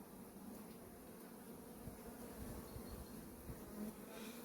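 Buckfast honey bees humming inside an opened hive, a steady close drone of many wings with a constant low buzz throughout.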